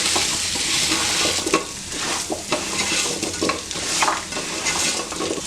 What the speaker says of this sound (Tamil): இப்போ இதை வந்து நல்லா ஒரு பிரட்டி விட்டாச்சு